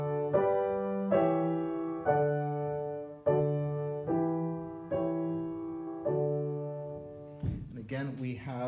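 Sustained harmonic chords from a music theory lesson, moving from a supertonic chord to a leading-tone seventh chord: seven evenly spaced struck chords, each ringing and decaying, with a voice beginning to speak at the end.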